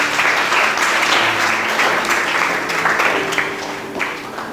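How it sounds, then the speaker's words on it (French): A church congregation applauds loudly and continuously, a dense wash of many hands clapping close by for several seconds with a faint murmur of voices beneath. "Est-ce qu'on peut acclamer le Seigneur pour Rebecca?"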